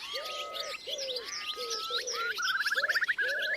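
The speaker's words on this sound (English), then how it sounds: "do you have any idea of what those dawn choruses might have sounded like 20 years ago?" A dawn chorus of several birds singing together, with low cooing calls, whistled notes and a rapid trilling song overlapping, fairly close and clear without voices.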